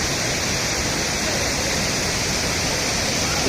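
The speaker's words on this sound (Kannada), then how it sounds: "ಇದು ಮಳ್ಳಳ್ಳಿ ಫಾಲ್ಸ್ ಅಂತ" Malahalli waterfall pours in a steady, broadband roar, constant and close throughout, with no break or change in level.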